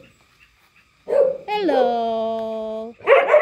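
A dog at close range gives a drawn-out whimpering yelp lasting over a second. A person speaks just before and just after it.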